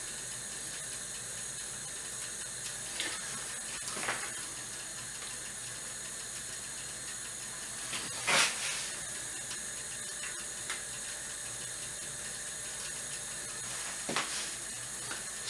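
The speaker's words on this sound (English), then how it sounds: "So we're getting a lot more steam." Steady hiss of steam over boiling water in a drinks can, with occasional louder bursts and spits breaking through the continuous rushing sound.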